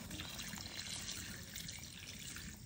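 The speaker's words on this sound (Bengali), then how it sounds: "এখন পানি দিয়ে দিচ্ছে।" Water poured into a pot of cooking chicken curry with potatoes, a steady splashing trickle filling the pot up close, with no voices over it.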